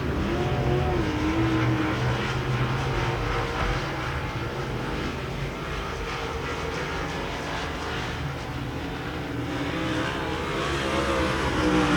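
Race cars roaring around the track at Devil's Bowl Speedway, a dense, continuous engine drone that stays loud and steady throughout with no voices on top.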